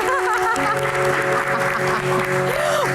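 Audience applause at an Indonesian Q&A talk show, a steady wash of clapping throughout with music tones and voices faintly underneath.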